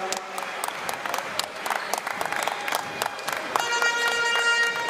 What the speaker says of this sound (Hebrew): דקה של מחיאות כפיים